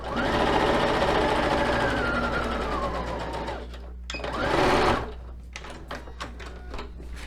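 A sewing machine stitches wool yarn hair onto a cloth doll, running in a loud steady whir for several seconds, then pausing with a brief burst of motor noise before quieter handling clicks follow.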